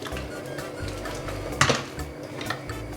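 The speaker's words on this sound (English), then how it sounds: "I'm just gonna move the pan around a little bit" A pan holding mangoes with raw sugar and salt shifted on the stove, giving a low rumbling scrape and one clear metallic clank near the middle, close and moderately loud.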